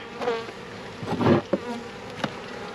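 Honey bees from a package swarm around a queen being pressed into wax, their close, dense buzzing swelling in uneven bursts with a few sharp spikes, with no voices.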